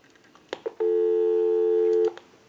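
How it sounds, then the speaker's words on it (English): Steady dial tone on a Western Electric 554 rotary wall telephone line, a sustained two-tone hum lasting just over a second after a few faint clicks of the handset, heard alone and fairly loud. "we'll go ahead and give you some dial tone"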